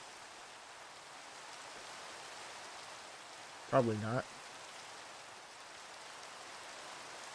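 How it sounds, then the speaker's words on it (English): Rain in Minecraft patters as a soft, steady, hissing wash throughout, with a person talking briefly over it. "And get rid of this rain?"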